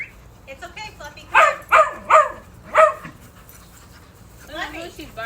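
A dog barks four times in quick succession, fairly close, with quieter sounds between and a faint whine toward the end.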